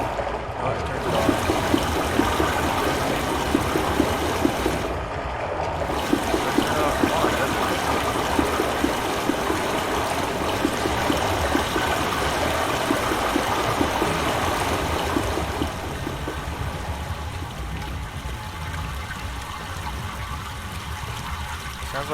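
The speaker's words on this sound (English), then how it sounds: "Sounds like we can hear water in the pipe." Water streams steadily through a pipe inside the game Myst, a continuous rushing flow that holds at a fairly even level before thinning out toward the end, with no one speaking over it.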